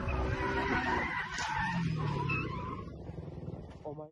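A Ford Mustang's tyres skid and squeal on the road, a harsh, fairly loud screech with engine noise that trails off over a few seconds as a voice speaks briefly.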